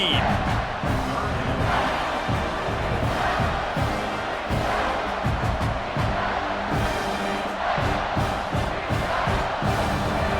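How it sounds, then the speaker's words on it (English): Simulated stadium crowd in the College Football 26 game during a bowl game, a loud, dense roar of cheering that pulses with rising shouts on a big third down. "The crowd elevating its energy, willing this defense to get a stop on this big 3rd down."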